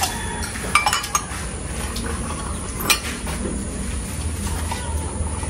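Glasses and plates clink and knock together in a few scattered bright hits over a low, steady background hum, with no talk.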